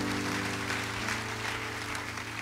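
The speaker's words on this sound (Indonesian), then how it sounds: "Beri tepuk tangan bagi dia." Sustained applause from a church congregation during a sermon, steady and dense clapping throughout, with a low hum underneath.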